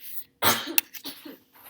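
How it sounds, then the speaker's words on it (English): A single harsh cough bursts out, followed by a few softer throaty sounds and breaths, somewhat distant in a quiet room. "If you hear coughing in the background,"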